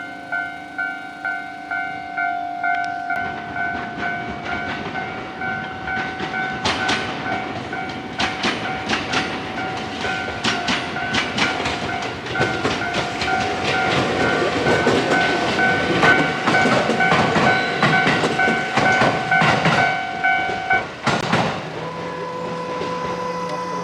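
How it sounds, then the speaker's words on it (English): A train rolls past with a steady rumble and clattering wheels, a sustained two-tone horn or signal sounding above it for most of its passage. "I have a glimpse of the empty train that pass by all the time."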